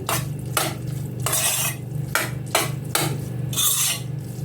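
A utensil stirs breakfast vegetables in a pan where butter has melted, scraping in regular sweeps about every half second over a low steady hum, close and fairly loud.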